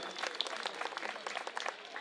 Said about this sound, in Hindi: हमारे विधायक जी के लिए भी एक बार जोरदार तालियां बजा दीजिए।